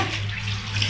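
Water runs steadily from a tap, a continuous close splashing rush with no voices.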